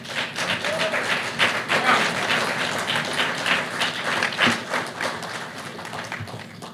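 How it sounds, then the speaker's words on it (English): Audience applause at a live political event addressing South Texas, a sustained crowd clapping close and steady for several seconds with no speech over it. "that is something we should all applaud."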